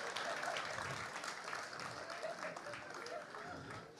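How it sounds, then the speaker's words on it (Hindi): An audience breaks into applause, a continuous wash of clapping from a crowd with a voice audible beneath it, steady and fairly distant. "एक बार जोरदार ताली बजा दो"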